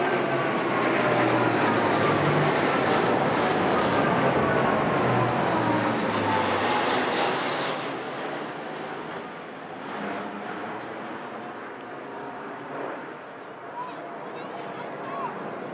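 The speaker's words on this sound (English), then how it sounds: "an A400M Atlas from the Royal Air Force, coming down following the line of flight established by that Second World War veteran" Royal Air Force A400M Atlas military transport aircraft passes overhead during a VE Day flypast over London, a loud broad propeller-turbine roar that builds, peaks and then fades into distant rumble after about seven seconds.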